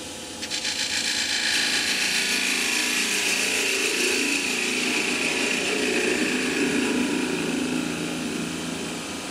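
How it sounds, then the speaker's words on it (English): A spindle gouge cuts across the face of an ash wood box turned on a lathe, giving a loud continuous scraping hiss that starts abruptly and holds steady for several seconds before easing slightly. "So just get the spindle gouge, clean across the face here"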